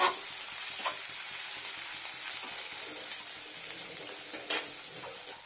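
Garlic fries in a pan as a soft, even hiss and sizzle runs throughout, broken by a couple of brief louder crackles and clinks, moderately quiet and close, with no talking.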